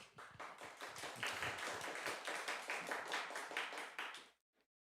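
A small audience claps at a Korean university campus ministry gathering, a steady run of close, dense handclaps lasting about four seconds before stopping abruptly into quiet.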